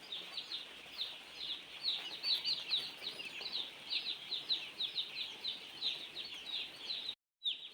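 Young chicks on their second day in a poultry shed chirp continuously in a busy, high-pitched flock chorus, fairly close, ending with a brief silence.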